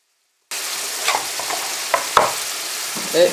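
Calf liver and heart sauté in a pan, a steady sizzle starting abruptly after a moment of silence, with a few sharp clanks and scrapes of a utensil stirring the meat.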